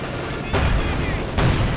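Gunfire in the World War II strategy game Company of Heroes 2, with T-34 and Panther tanks in battle: a steady rattle of distant shots under a dense noisy bed, with two heavier bursts standing out.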